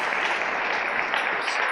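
A church congregation claps together during a Sunday morning worship service, a brief, dense, even burst of applause heard up close with no voices over it.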